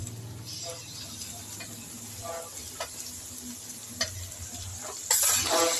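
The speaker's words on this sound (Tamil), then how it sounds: "இந்த ஸ்டேஜில் நம்ம தக்காளியை போட்டுக்குவோம் தக்காளி அறிஞ்சு வச்சோம்ல எல்லா தக்காளியும் போட்டுக்கோம்" Tomatoes go into a pan of sizzling oyster mushroom gravy and are stirred, giving a steady frying hiss with light utensil clinks and a louder surge of sizzle near the end.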